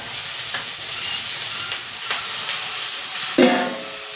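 Ivy gourd (kovakkai) fries in a pan with a steady crackling sizzle, punctuated by light scrapes of stirring and a brief louder clatter near the end, close and moderately loud.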